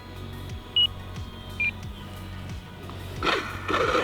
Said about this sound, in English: What you guys are hearing is my 5-minute timer counting down.